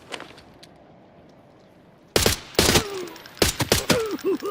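Gunfire in an arena shooter video game, with shots coming in short loud bursts and clusters after a quiet opening, with strong weapon recoil and kick.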